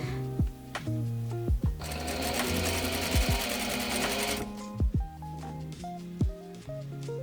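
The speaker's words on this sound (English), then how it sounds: "Pin and stitch the darts of the front bodice and front bodice lining." A sewing machine stitches darts on a front bodice and its lining for an apron dress: short whirring bursts, then a sustained run of fast stitching in the middle, then more brief starts and stops, close and clear.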